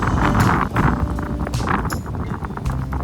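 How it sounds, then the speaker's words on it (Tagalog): Strong, gusty storm wind roars steadily against the microphone, rising and falling in buffeting waves with no talking, in Ilocos Norte. "Malakas ang hangin."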